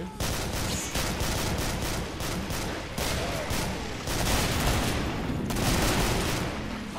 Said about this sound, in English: This gun sounds meatier than the last time I used it.